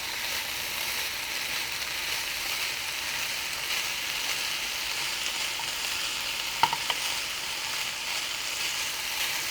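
Meat sears in a pan as its cooking water evaporates, giving a steady, close, dense sizzle throughout with a couple of faint clicks midway and no talk.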